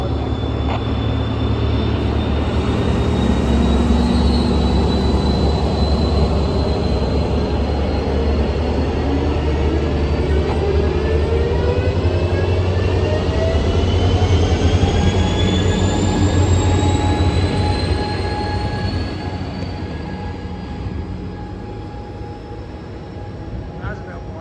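Amtrak's Southwest Chief passenger train rumbles past close by at Fullerton station, its heavy rolling roar filling the scene while squealing wheels rise and glide in pitch, fading slightly at the end.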